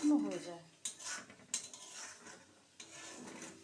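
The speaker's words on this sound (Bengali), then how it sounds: "দেখুন নাড়তে নাড়তে জলটা পুরো শুকিয়ে গেছে, পুরো ঝুরঝুরে" A spoon scrapes and clinks against a pan while suji upma is stirred, with irregular metallic knocks and soft scraping strokes spaced apart, close and fairly quiet, with no voices.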